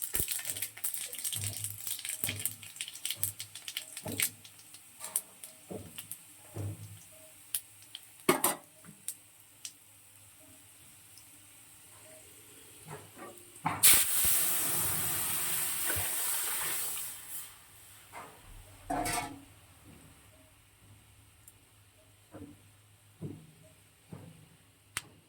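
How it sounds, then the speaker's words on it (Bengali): Dal being tempered with five-spice and dried chillies: soft scattered crackles and pops with a long hissing sizzle burst midway, plus a few clinks of utensils, in a quiet kitchen without talk. "ডালে ফোড়ন দিচ্ছি একটু সময়, 5 ফোড়ন আর শুকনো লঙ্কা"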